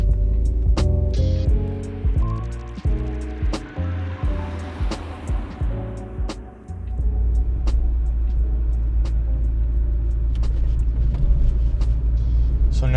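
A Volvo 240 Classic driven on a road at night gives a steady low engine and road rumble, with a stretch of pulsing, fluctuating noise in the middle before settling back into a constant drone.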